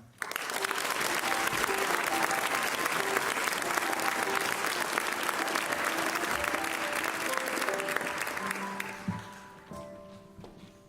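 Sustained applause from an audience at a school's centenary concert ceremony, a dense, loud clatter of many hands that keeps going steadily before thinning out near the end.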